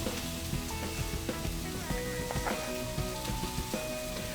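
Sliced peppers and onions sizzle and fry in a hot pan, a steady close crackle with occasional stirring scrapes and no talking.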